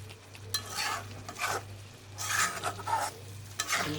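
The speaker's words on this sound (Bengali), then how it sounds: "এখন আগে একটু কষিয়ে নিই, যাতে মাংসটা সব মশলাগুলো গায়ে গায়ে মেখে যায়।" Chicken pieces coated in spices for biryani, stir-fried in a pan, with sizzling and bursts of scraping and stirring against the metal, coming in uneven strokes over a low steady hum.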